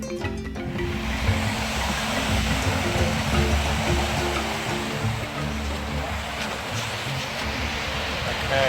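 Beach waves at Nungwi on the northern tip of Zanzibar, a steady broad wash of surf that rolls on without a break, fairly loud and close, with no voices heard.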